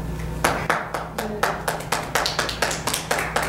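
A small group at a local history talk on veterans' memorials claps in sparse, distinct, evenly spaced hand claps, close and fairly loud, with a low hum underneath.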